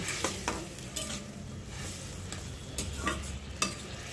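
Jackfruit curry with a little water being stirred in a pan: a soft simmering sizzle broken by several distinct scraping and clinking strokes of the spoon, close and moderately quiet, no talk.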